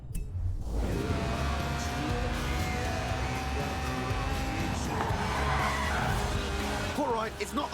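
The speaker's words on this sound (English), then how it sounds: "The honourable art of drifting" A car drifts in the racing game Forza Horizon 4: a steady droning engine tone runs throughout, and a skidding tyre squeal rises toward the end.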